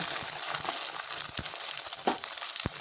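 Onion omelette frying in a pan, a steady close sizzle broken by a few sharp clinks and scrapes of a utensil against the pan.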